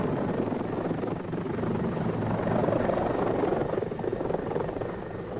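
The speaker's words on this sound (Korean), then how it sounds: "예거 대원들은 이상적인 침투용 항공기로서 헬리콥터를 사용합니다" Steady loud rotor roar of a helicopter used by Norwegian Jaeger Corps special forces for low-level infiltration, a continuous dense throbbing wash that swells slightly in the middle.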